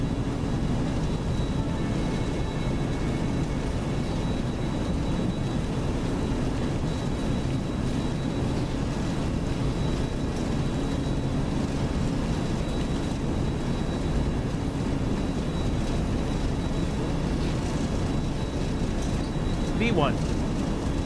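Simulated Boeing 737-200 twinjet in X-Plane 12 rolling for takeoff, a steady loud engine roar with broadband rumble holding throughout, with people speaking over it.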